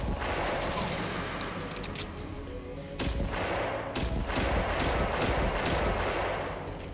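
Video game pistol fire, a dense rapid string of sharp shots over a constant loud battle din, with bursts clustering around a few moments and no clear voices.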